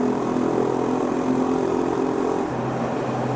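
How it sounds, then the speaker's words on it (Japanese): A Honda GB350S single-cylinder motorcycle cruises at 120 km/h in fourth gear on an expressway inside a tunnel, its engine producing a loud, steady, throbbing drone with wind roar, the pitch dipping slightly near the end. "4速で120キロの時の音がなかなかワイルドでいいんですよね"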